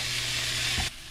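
Onions and garlic fry in a pan with a steady, close hiss that cuts off abruptly near the end, and no one speaks.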